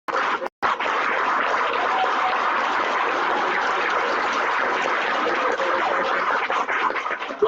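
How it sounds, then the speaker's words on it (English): A conference audience applauds the panelists at a workers' report launch, a broad steady wash of clapping that holds evenly for several seconds after a short gap at the start. "let's give a really loud applause for our panelists here"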